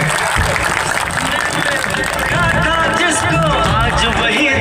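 Crowd at an outdoor political rally applauding and cheering throughout, a dense continuous wash of clapping mixed with excited voices and crowd babble.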